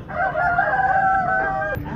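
A Polish breed hen on a rooftop desi poultry farm gives a loud, drawn-out crowing call with strong harmonics for about two seconds. It is heard close up with no talk.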